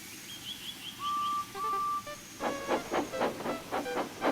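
A steam engine pulling a heavy train chugs along with rhythmic puffing bursts, preceded by a steady whistle tone and hissing steam, fairly close and loud.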